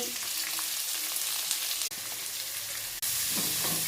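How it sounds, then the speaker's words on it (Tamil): Horse gram curry, freshly topped with a sizzling tempering, is stirred with a ladle: a loud, continuous hiss and crackle up close, with two brief cut-outs and some scraping toward the end. "மட்டை போட்டு ஒரு கலக்கு கலக்க போகிறேன்."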